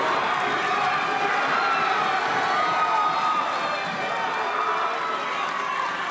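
Crowd noise at a 1996 high school wrestling match between East Brunswick and Woodbridge: a steady, dense wash of spectator cheering and shouting that holds at an even level throughout, with no clear individual voices standing out.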